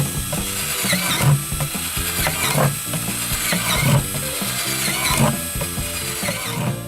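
Holes are punched one after another through the plastic bottom of a homemade worm bin, each burst a loud grinding, ratcheting tool noise with brief pauses between, close and without talk.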